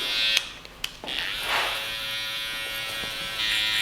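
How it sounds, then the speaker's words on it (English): An electric hair trimmer buzzes steadily at close range while a barber blends out a skin fade, its hum dipping briefly with a few small clicks and shifts as the blade moves against the head. "so you can get that longer trimmer"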